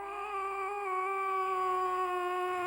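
A performer on a Malayalam comedy stage imitates a cat crying when another cat is close by. It comes out as one long, steady, wailing yowl held at a fairly even pitch, loud and close, with no other voices.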